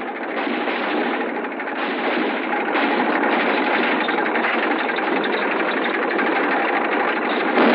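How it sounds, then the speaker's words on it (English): Army tanks advancing during a 1956 military exercise at Schofield Barracks, Hawaii, a loud, steady mechanical rattle and engine roar with a clattering, filtered old-film quality that persists without pause. "aggressor brings up its own tanks"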